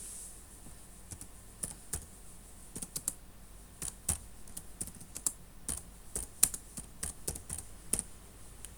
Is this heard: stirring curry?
no